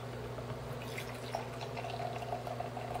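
Budweiser Black Crown beer is poured into a glass, giving a soft fizzing trickle with small drips and splashes. It sits over a low steady hum, and no one speaks.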